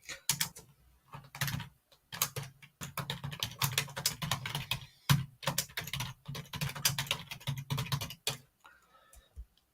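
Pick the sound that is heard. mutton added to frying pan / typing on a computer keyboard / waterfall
typing on a computer keyboard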